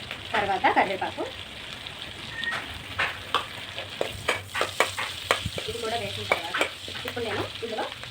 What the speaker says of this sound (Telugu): నేనైతే ముందుగా ఇందులో పచ్చిమిరపకాయలు వేస్తున్నానండి